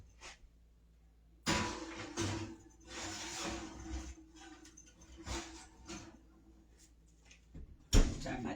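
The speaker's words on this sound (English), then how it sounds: "And it's going into the oven." Bread pudding in a baking dish slid into a home oven: a clattering burst of rack and door sounds, then a muffled interval of handling and shifting, ending with a sharp thud of the oven door closing.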